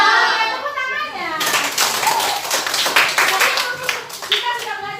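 A class of students breaks into loud, dense hand clapping right after a brief spoken line, the close, fast applause continuing steadily for several seconds.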